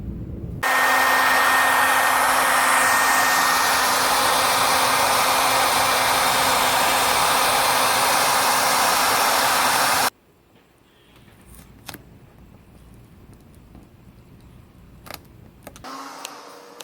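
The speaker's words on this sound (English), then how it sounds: "So I'm going to use a little hair dryer and just heat it up a little bit more" A small hair dryer blows steadily for about nine seconds while heating a sticker on a motorcycle, then shuts off, leaving faint handling clicks and light bumps in a quiet room.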